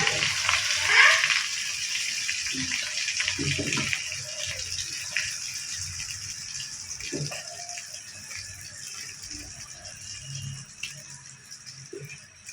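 Tel pitha, a rice cake, frying in hot oil, with a steady loud bubbling hiss that fills the background throughout, plus a few faint clinks and light knocks nearby.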